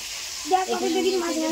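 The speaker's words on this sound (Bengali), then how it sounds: "এবার আমরা মাছগুলো ভেজে নিচ্ছি" Pomfret fish fry in oil with a steady sizzle, and a voice speaks briefly over it partway through.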